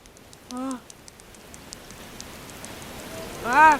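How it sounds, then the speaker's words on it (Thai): Light rain pattering steadily in the background, with short bursts of speech near the beginning and end. "ฝนตกเนี่ย"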